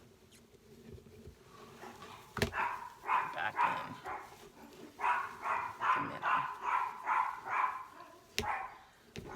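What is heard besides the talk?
dogs barking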